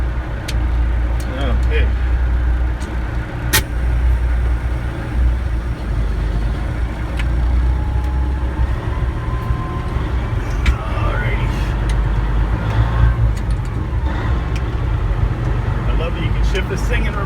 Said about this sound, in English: let's give her a go. And this thing starts.